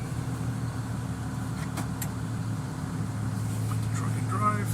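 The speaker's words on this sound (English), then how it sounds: "put the truck in drive. I'm going to pull forward at least 5 miles an hour." Class B truck's engine hums steadily from inside the cab as it pulls forward at low speed, with a low droning tone, a few brief clicks and a voice speaking over it.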